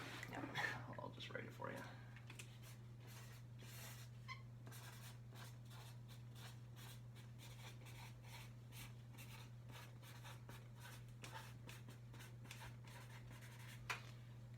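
A pen scratches across paper in short, quiet strokes and brief pauses, close but faint over a steady low electrical hum, with soft talk near the start.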